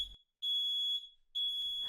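A smoke detector sounds its alarm in two long, piercing, steady beeps separated by a short silence, with a brief rustle near the end.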